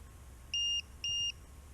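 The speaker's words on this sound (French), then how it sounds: "Ça c'est le petit lipo buzzer" Two short, identical electronic beeps, evenly spaced and fairly loud, come from a small LiPo battery low-voltage buzzer on a 4S 2000 RC car, a Losi Baja Rey 1/10, over a quiet background hum.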